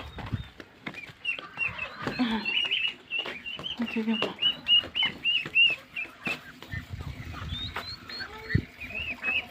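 Chickens clucking and squawking on a rural Egyptian farm, a scattered run of short calls at moderate distance, with people talking and household noises mixed in.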